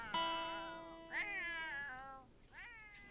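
Casey the cat gives several drawn-out, wavering meows close by: a long call at the start, then two more rising cries that trail off, heard alone with no talking.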